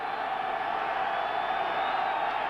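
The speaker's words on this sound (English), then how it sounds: "Crowd rising, third down," Football stadium crowd at a 1992 Miami at New England game building to a steady, dense roar before a third down, broad and continuous with no single voice standing out.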